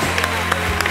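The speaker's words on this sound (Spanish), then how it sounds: "Un gran aplauso para nuestro amigo Andrés" Studio audience at a comedy show applauding briefly, a dense wash of clapping and crowd noise.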